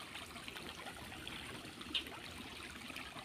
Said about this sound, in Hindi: तो ये ट्यूबवेल का पानी है, ये ऊपर से आ रहा है।